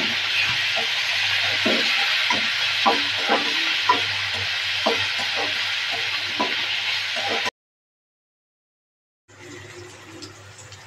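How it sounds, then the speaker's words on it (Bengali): Coriander leaves, onion and chili fry in a pan with a steady, close sizzle and soft stirring knocks, then a brief silent gap, after which the sizzle returns more quietly. "এটাকে ভালোভাবে ভেজে নেব।"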